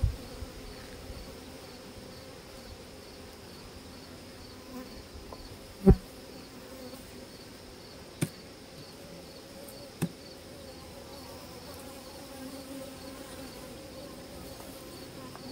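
Honey bees buzzing around an open hive during a hive split, a steady low drone with a few sharp knocks, no speech.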